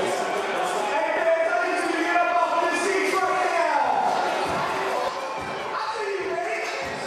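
A crowd at a SlamBall game in an arena in Las Vegas makes a steady roar of chatter and cheering beneath a commentator's voice.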